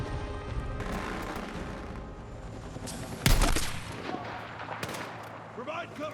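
Gunfire in the Battlefield 6 video game on PlayStation 5 Pro: dense, continuous shooting with a loud blast near the middle, while players talk over the battle.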